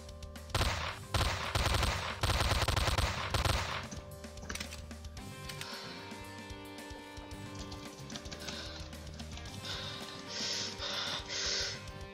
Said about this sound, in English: Alright, a machine pistol. That sounds really lame.